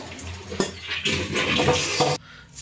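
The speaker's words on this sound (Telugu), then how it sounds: "ఇలాగా మనము ఫిష్ని కడిగేసుకొని పక్కన పెట్టేసుకోవాలి" Fish being washed by hand in water for a traditional fish curry, with splashing and sloshing, occasional clinks of a vessel, and a brief louder burst before the water noise cuts off near the end.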